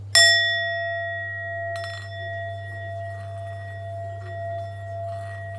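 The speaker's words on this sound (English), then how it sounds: "I'll finish off with the ringing bowls." A single struck singing bowl rings out with a clear, sustained metallic tone and bright overtones, decaying slowly; a second softer strike follows shortly after.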